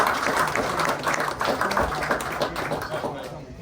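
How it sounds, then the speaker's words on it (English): Round of applause for a kayak bass tournament angler at a lakeside weigh-in on Lake Toho, scattered outdoor clapping from a small crowd, fairly close, with voices murmuring underneath. "So let's give him a round of applause."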